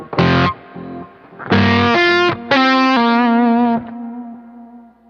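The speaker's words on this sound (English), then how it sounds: "I have the button to turn the sort of long delay on also set to tap." Guitar run through a small pedalboard with a long tap-tempo delay, several loud distorted sustained chords and notes in bursts, ending with a trailing echo that fades out.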